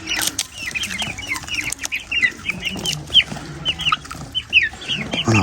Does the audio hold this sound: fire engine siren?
no